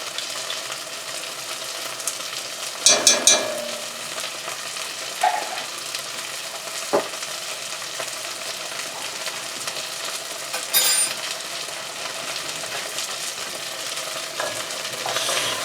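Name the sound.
stirring pre-minced garlic sizzling in frying pan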